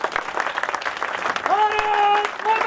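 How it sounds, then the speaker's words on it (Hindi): A crowd claps loudly and continuously at a Delhi Police driver felicitation ceremony, with voices talking and shouting over the applause and a sustained tone rising near the end. "जोर से तालियां बजाओ।"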